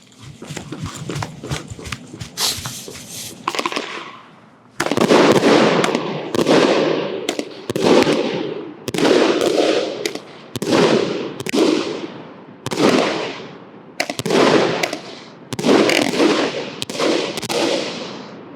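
Burnout fireworks cake firing a rapid string of booming shots, about a dozen bursts after an initial crackle of firecrackers, loud and close outdoors with no talk over them.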